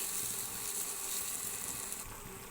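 Onions frying in a pan as a chicken curry is started, a steady, dense sizzle that holds at an even level throughout, with no talking.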